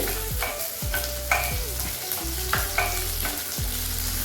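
Garlic and small onions frying in a pan, a steady close sizzle with intermittent scraping and stirring strokes and no talking.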